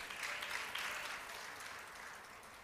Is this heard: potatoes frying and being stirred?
no